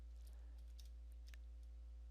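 Quiet keystrokes tap on a Lenovo Legion Pro 5i laptop keyboard while a command is entered, a few soft irregular clicks over a steady low electrical hum.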